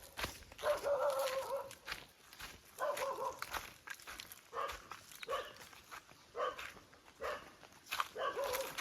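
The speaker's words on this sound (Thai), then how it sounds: "มันนี้มาจรเห่าด้วยนะ" A stray dog barks repeatedly outdoors at some distance, in short bursts spread across the clip, over soft footsteps and background noise.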